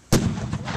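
A staged explosion effect on a film set goes off as one sudden loud boom, followed by a rumbling decay that lingers under a faint second swell.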